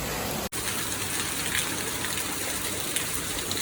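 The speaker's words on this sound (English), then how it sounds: "Right when I got down there, it started pouring." Heavy rain pours steadily on the Appalachian Trail during a thunderstorm, a dense, loud, continuous wash of water with one brief dropout near the start and no voices.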